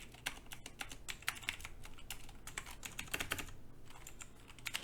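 Fast, steady typing on a computer keyboard while writing JavaScript code, with crisp close key clicks in quick irregular bursts and no talking.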